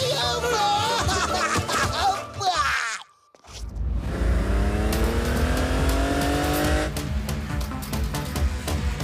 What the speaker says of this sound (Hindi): मुझे गुस्सा मत दिलाओ, तुम बैठो, मैं गाड़ी चलाता हूँ।